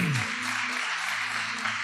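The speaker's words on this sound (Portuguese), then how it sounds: "aplauda ao Senhor" Church congregation applauding during a worship service, a steady broadband wash of clapping with a low hum and tone underneath, continuous for a couple of seconds.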